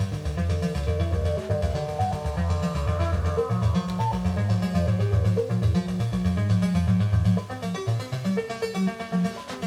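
A Mos-Lab 2500 modular synthesizer plays a looping sequence through transposed VCOs, a loud, continuous pulsing bass pattern with buzzing harmonics that shifts pitch partway through.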